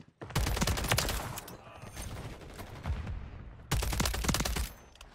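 An AMR9 submachine gun fires in Modern Warfare 3 in two loud, sustained bursts of rapid shots close up, separated by a short quieter stretch.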